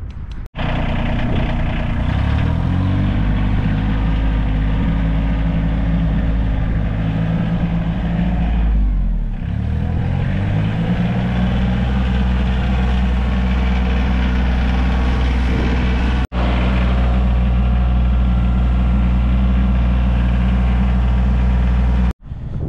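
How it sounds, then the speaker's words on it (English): A Husqvarna 572XP chainsaw with a 25-inch bar runs loud and close, holding a steady high drone with deep harmonics, dipping and recovering partway through as the chain bites into a large piece of wood. "Let's get some big wood in here and see what happens when we bury this 25 inch bar."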